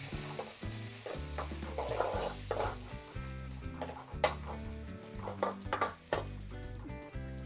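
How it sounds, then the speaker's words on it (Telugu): Onions fry over high flame in a pan while being stirred, a close sizzle broken by repeated scraping and clinking of the spoon against the pan, with music playing underneath. "ఇప్పుడు హై ఫ్లేమ్లో పెట్టేసుకొని వేయించుకుందాం."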